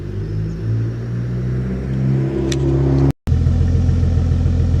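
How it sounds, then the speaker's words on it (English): A Mk3 Toyota Supra engine idles with a steady low rumble and a slight rise in revs, close by, with a brief dropout near the end. "Now we've got the car running"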